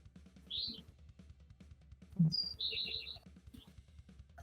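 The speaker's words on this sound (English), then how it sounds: "Can hear all the birds tweeting in the back there" Small birds chirp and tweet in short bursts in the background, several distinct calls spread across the clip over a low, steady hum.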